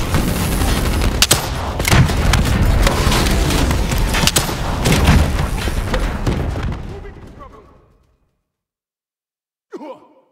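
Rocket weapon fire in Call of Duty Black Ops 3, a dense loud barrage of bursts and booms lasting several seconds that fades to silence, followed by one brief late sound.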